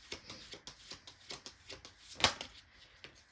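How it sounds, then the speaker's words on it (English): Slippery tarot cards are shuffled by hand in quick, uneven flicks and riffles, close and fairly quiet, with one sharper snap near the end and no talking. "These are super slippery, so they're really hard to shuffle."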